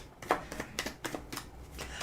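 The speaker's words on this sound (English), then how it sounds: "Go ahead, give it another shuffle." A deck of cards is shuffled in several quick riffling bursts, soft papery flutters repeating close to the listener at moderate level with no talk.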